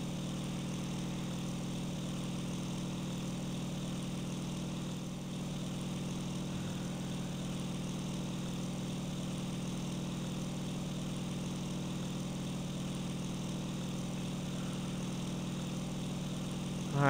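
A water-injected aircraft piston engine drones in the flight game IL-2 1946, an unbroken low steady hum at constant throttle, moderately quiet and unchanging for the whole stretch.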